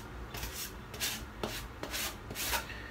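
Spatula spreading wall putty over styrofoam, a soft scraping rub in a series of quiet, evenly spaced strokes, close and alone.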